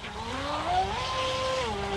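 A Wltoys WL916 Swordfish 3s brushless RC boat runs at full throttle on full steering lock, giving a steady high-pitched motor whine that bends in pitch as it turns, heard from a distance.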